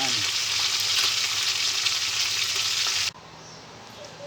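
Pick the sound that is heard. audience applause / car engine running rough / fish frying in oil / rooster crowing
fish frying in oil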